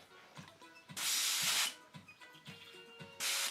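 An airbrush spraying yellow paint for a custom outfit gives two close, steady bursts of hissing air, the first lasting under a second and the second shorter, with faint clicks and taps in between.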